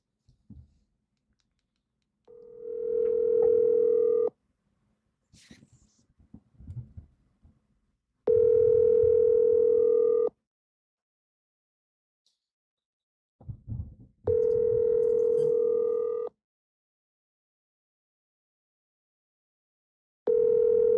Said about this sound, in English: Let me call Thread Guy